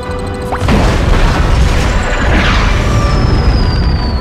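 Continuous loud booming and rumbling from explosions in the video game World of Warcraft, a dense wall of blasts and crashes with a sweeping tone over it and no pauses.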